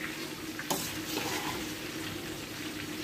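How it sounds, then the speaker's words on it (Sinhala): Onions fry in hot oil for koshari rice, giving a steady, soft sizzle with a few faint stirring scrapes on top. "තෙලේ අපේ ලුණු ටික බදගමු"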